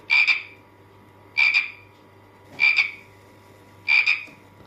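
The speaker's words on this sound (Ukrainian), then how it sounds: "а потім у нас була жаба" A frog croaks four times at an even, unhurried pace, each croak a short raspy burst separated by quiet.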